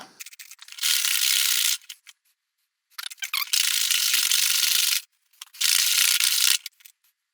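Bass guitar parts are roughed up for a relic finish with three sustained, bright bursts of abrasive rubbing or sanding separated by short silences, close and fairly loud, and no talking.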